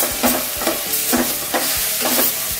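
A spoon stirs ground spices frying in hot oil for dal khichdi over medium heat, a steady sizzle broken by regular scraping strokes about twice a second.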